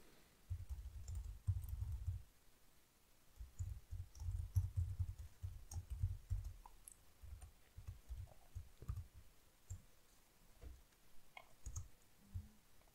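Keys clatter on a computer keyboard in bursts of close, quiet typing, with a few pauses between runs of keystrokes and no talking.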